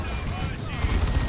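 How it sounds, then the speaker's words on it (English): A Space Marine dreadnought's assault cannon firing in Warhammer 40,000: Dawn of War 2, a rapid rattling stream of shots mixed into dense battle noise, with a voice commentating over it. "He's got the assault cannon."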